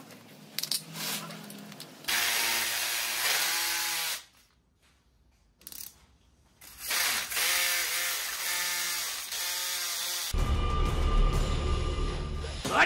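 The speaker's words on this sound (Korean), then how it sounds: "전동 드릴용 사포를 사 사포질을 해봤습니다" Power drill fitted with a sandpaper attachment sanding a surface in a motel renovation, loud whirring bursts that start and stop several times with short quiet gaps, and a rougher grinding stretch near the end.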